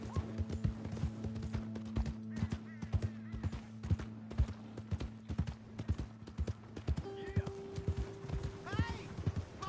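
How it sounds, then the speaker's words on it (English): Horse hooves clip-clop steadily in Red Dead Redemption 2, a regular rhythmic plodding of repeated close impacts running throughout, with a low steady drone beneath and a brief whinny-like sound near the end. "Hey! My horse!"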